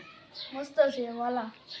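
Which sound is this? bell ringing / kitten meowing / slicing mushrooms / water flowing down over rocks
kitten meowing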